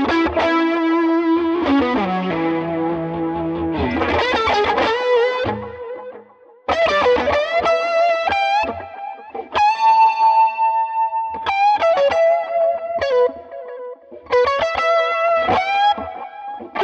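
Electric guitar solo played through a Tone King Imperial MKII amp plugin, loud sustained bent notes and quick runs in phrases separated by brief pauses, with effects coloring the sound.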